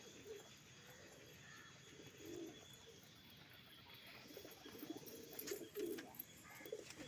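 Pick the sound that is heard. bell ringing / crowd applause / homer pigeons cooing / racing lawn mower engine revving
homer pigeons cooing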